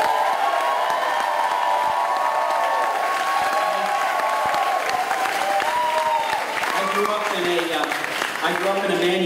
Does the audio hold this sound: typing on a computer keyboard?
no